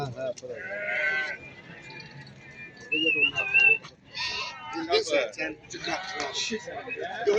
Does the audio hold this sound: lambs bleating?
yes